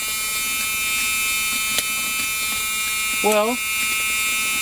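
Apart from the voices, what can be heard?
seatbelt warning buzzer in 1972 Ford LTD Galaxie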